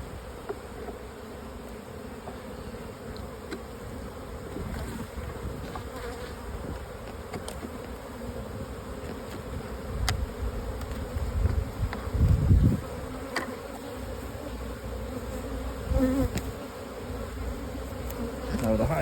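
Dense, steady buzzing of honeybees from a large open hive with frames of brood, a continuous close drone that swells briefly partway through, no voices.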